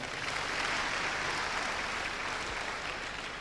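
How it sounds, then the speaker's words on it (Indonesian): An indoor audience applauding a married couple at a business gathering, a loud, sustained and even burst of clapping from many hands with no pauses. "Berikan aplaus yang tulus kepada pasangan Ibu Diah Sapitri dan Bapak Iwan."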